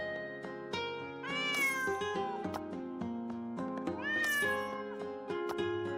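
Cat meows ring out over dense, melodic background music in the video game Girls' Frontline 2, several rising cries woven into the busy, loud soundtrack.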